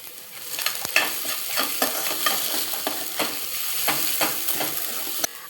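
Diced potatoes and turmeric powder sizzle in hot oil while a utensil scrapes and stirs them in a pan, with steady frying hiss and repeated stirring clicks, close and with no talk.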